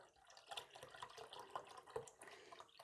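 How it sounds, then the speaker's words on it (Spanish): A litre of milk poured into a cooking pot for homemade fresh cheese, a steady quiet liquid stream with small splashing bursts close by, no talking. "Empezamos echando el litro de leche"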